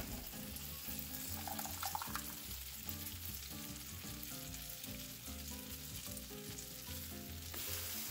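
Low-carb French toast waffles cooking in butter on a griddle, a steady, close buttery sizzle lasting throughout, with rhythmic background music underneath.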